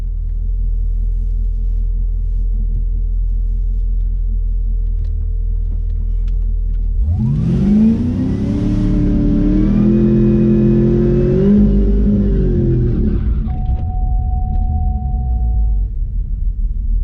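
A drag race car's engine bursts into a deep, loud rumble during a burnout at a private test session, climbing into sustained high revving over about ten seconds after a steady low background drone.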